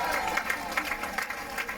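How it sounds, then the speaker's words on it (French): Applause and crowd noise roll on for an ovation to cyclist David Gaudu at a podium ceremony of the Tour des Alpes-Maritimes et du Var, a dense steady clatter of many hands with an announcer's voice running over it. "Une véritable ovation, des applaudissements"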